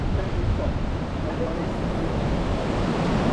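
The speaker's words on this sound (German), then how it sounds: "Diese ganzen Wellen hier, wo man sieht. Jetzt hört man es natürlich auch mehr." Sea waves surging against the rocks below a cliff in Monaco, a broad continuous rush of surf mixed with wind buffeting the microphone, steady and fairly loud throughout.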